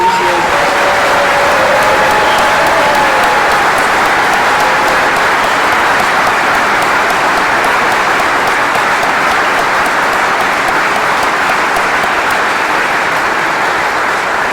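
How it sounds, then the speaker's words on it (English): Thunderous, continuous applause fills a hall at a military retirement ceremony, a steady wall of clapping from a large audience that holds at full strength for the whole stretch. "Let's give General Horn and Kelly and their family a thunderous round of applause"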